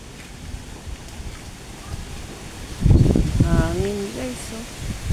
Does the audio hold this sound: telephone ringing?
no